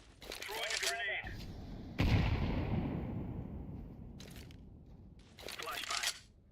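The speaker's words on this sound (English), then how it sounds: "Throwing a grenade." Video game combat audio: a grenade blast and a burst of gunfire, with loud sharp shots near the start, a heavy explosion that rumbles and fades, then further rapid gunfire near the end.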